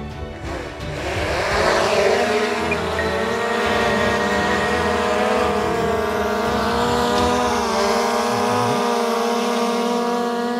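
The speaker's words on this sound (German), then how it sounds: "dann werden wir jetzt gleich mal die Drohne starten" DJI Air drone spinning up and flying, a steady, loud motor whine with stacked harmonic tones that holds throughout, rising slightly in pitch at first and staying close.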